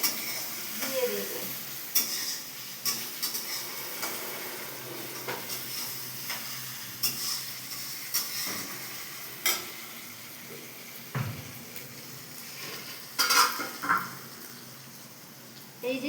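Spice paste and chicken frying in a pan, a constant close sizzle and hiss with periodic scraping stirs and an occasional pot clank.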